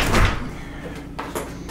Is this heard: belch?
no